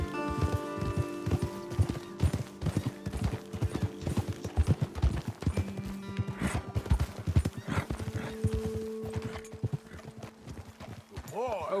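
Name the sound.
horses' hooves while riding in the video game Red Dead Redemption 2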